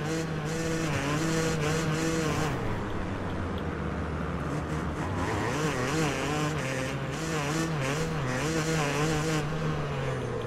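A Yamaha YZ250 two-stroke dirt bike engine in the MXGP Pro video game at Frauenfeld buzzes loudly and continuously, its pitch rising and dipping through gear changes and throttle shifts with no pause.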